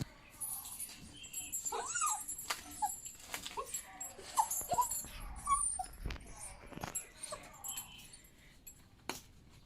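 A puppy being fed whimpers and gives high yips in short bursts, close up, with light rustling and clinks around it and brief quiet talk in the background.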